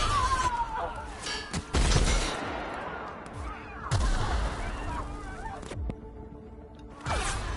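Gunfire from a weapon in The Outer Worlds, several loud sharp shots spaced a second or two apart, mixed with other game sounds and a voice speaking.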